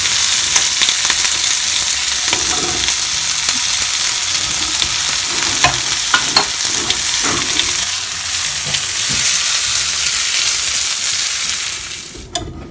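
Vegetables such as capsicum sizzle loudly as they saute and roast in ghee in a pan, crackling steadily with occasional stirring scrapes for about twelve seconds before the sound cuts off abruptly near the end.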